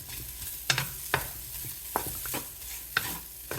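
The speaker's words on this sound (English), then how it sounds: "we'll just go ahead and stir this up a little bit here" Low-sodium Spam frying in a pan and being stirred, with several sharp spoon-on-pan scrapes and clacks spaced irregularly over a soft, steady sizzle, close and fairly quiet.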